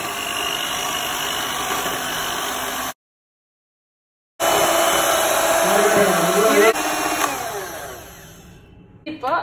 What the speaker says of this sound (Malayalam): ഇനി ഇത് നന്നായി എഗ് ബീറ്റർ കൊണ്ട് ബീറ്റ് ചെയ്തെടുക്കണം